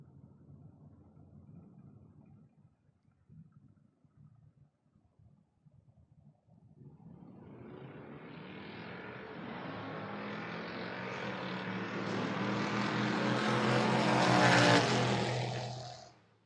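A big Chrysler and a Mustang launch at a drag strip. After a few seconds of low idling rumble, engines roar up and build steadily louder and higher before cutting off sharply near the end.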